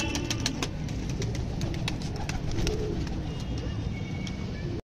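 Pigeons and their chicks feed spread across a rooftop, with soft cooing and rapid pecking taps at grain, steady traffic rumble in the background.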